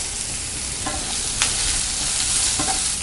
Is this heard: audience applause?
no